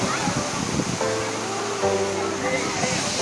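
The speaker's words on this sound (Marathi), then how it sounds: "आणि असा हा आंबोली धबधबा." Amboli waterfall in full flow, a steady broadband roar of falling water with a crowd of visitors around, continuous and moderately loud while a voice speaks over it.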